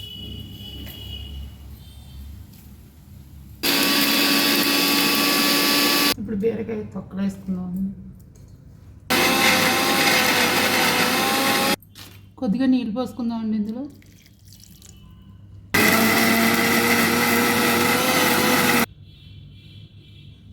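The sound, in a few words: mixer grinder grinding ridge gourd peel chutney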